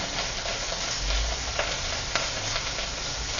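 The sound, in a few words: vegetables frying and sizzling with red chili paste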